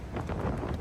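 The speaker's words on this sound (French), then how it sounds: "Le vent s'est mis à souffler vers 3h du mat." Night wind gusting against a tent or trike camp in Norway, a steady roar with soft swells, close to the microphone and buffeting it, with no voices.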